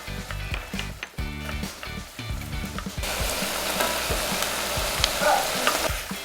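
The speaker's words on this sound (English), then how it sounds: "Continue stir frying for about 30 to 45 seconds." Garlic and green onion sizzle in hot oil as a utensil scrapes and clatters in the pan, settling into a loud, steady crackle.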